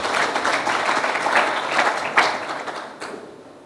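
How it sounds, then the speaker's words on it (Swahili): Applause from an audience at a sports club announcement event, steady clapping across the whole stretch with a couple of sharper bursts, fading toward the end. "Makofi mengi tafadhali"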